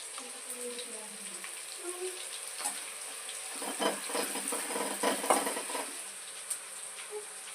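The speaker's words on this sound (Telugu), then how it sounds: "చూడండి, మిరపకాయలు అయితే వేగిపోయి" Dried red chillies fry in oil in a pan for fish pickle, a soft sizzle and crackle that swells in the middle with stirring scrapes, fairly quiet, with a faint voice now and then.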